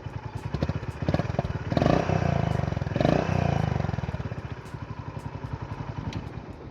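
A Honda H'ness CB350 motorcycle exhaust thumps in a rapid, throaty pulse, revved twice to a louder roar before dropping back to a steady idle.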